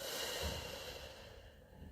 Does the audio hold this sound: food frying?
no